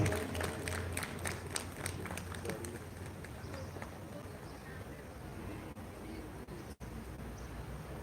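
An audience at a continuing education programme event applauds a speaker after an introduction, a dense, sustained wash of many hands clapping that continues steadily throughout.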